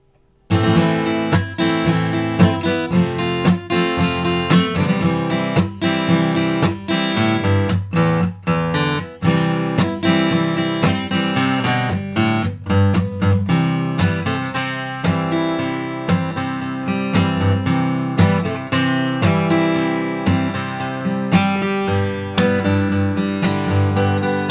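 A Headway HD-115 dreadnought acoustic guitar is played continuously for about 25 seconds, with full, ringing strummed chords and picked notes that are close, loud and steady, and no talk.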